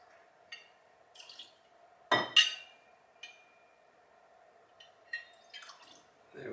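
Bourbon poured into a glass for a smoked Old Fashioned cocktail, heard as a few brief drips, splashes and glassy clinks spread over a steady low hum in a quiet room.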